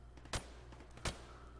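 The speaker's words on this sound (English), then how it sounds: "Shoot the targets while firing from the hip." Two single rifle shots at targets on a range in Call of Duty Modern Warfare Remastered, clear, distinct cracks about three quarters of a second apart, fairly faint over a low steady background.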